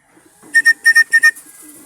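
Racing pigeons arriving at a loft during a north and south race arrival in Villasis, Pangasinan: a run of six bright, close coos or calls in pairs over a quiet background, with faint low sounds before and after.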